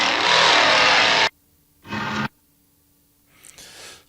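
A chainsaw from the 1974 film The Texas Chainsaw Massacre roars in loud revving bursts, one long and one short, followed by a quieter, rougher tail of engine noise.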